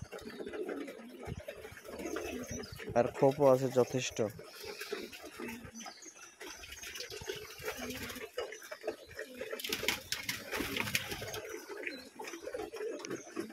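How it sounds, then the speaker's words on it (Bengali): Soft pigeon cooing in an enclosed loft holding about 100 pairs, a brief burst of calls under a man's nearby speech and light rustling. "এখানে 100 জোড়ার মতো, আনুমানিক 100 জোড়ার মতো কবুতর আছে"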